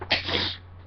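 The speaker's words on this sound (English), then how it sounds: "Yeah, I get that when I sneeze out of my nose." A single sharp sneeze bursts out close by, a quick explosive hiss followed by a brief trailing breath, with a low steady hum beneath.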